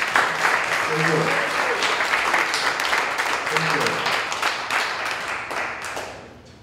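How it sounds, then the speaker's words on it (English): Crowd applause at an outdoor political rally in Freeport, Texas, a dense wash of many hands clapping steadily for several seconds before tapering off, with a few voices underneath. "Another round of applause, please."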